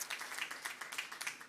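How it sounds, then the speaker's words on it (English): Faint, distant audience clapping at the Cliff Bellamy Awards 2022 ceremony, a thin, steady patter of scattered hands lasting a moment, with no voices over it. "we're getting a bit of a clap"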